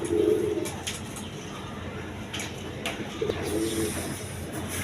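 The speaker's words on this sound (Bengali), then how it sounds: "এখানে এক পেয়ারে গোল্লা কবুতর আছে আপনার" Golla pigeons, a large Gopalganj breed, coo in low repeated calls, near and fairly clear, with a steady background murmur behind them.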